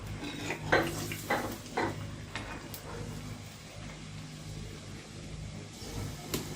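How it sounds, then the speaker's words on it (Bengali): Potatoes frying in oil for crispy French fries, stirred now and then with a utensil scraping the pan, giving a few clacks over a steady low sizzle, close and fairly quiet. "ফ্রেঞ্চ ফ্রাইটা ক্রিস্পি করার জন্য অবশ্যই আলুগুলো আমাদের ডাবল করে ভাজতে হবে"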